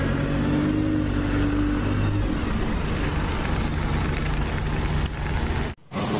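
Red bus passing in busy street traffic, a steady loud engine rumble with a low drone that holds for several seconds before the noise briefly drops away near the end.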